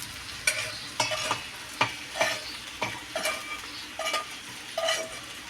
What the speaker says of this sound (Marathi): खोबरं चांगलं भाजून घेऊया ब्राऊन होईपर्यंत।